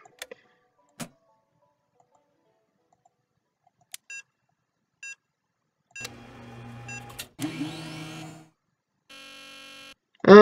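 An electric coil machine in the Nancy Drew game The Deadly Device gives sparse ticks and beeps, then bursts into a harsh buzzing crackle for a couple of seconds, followed by short electronic tones, fairly quiet overall.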